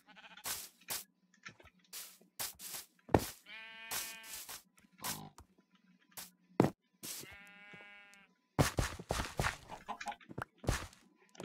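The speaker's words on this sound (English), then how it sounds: "next up I want to get the sheep in there" Sheep in Minecraft give several short, nasal bleats spread between quick clicks and footstep-like thuds, loud and close against a quiet background with no talk.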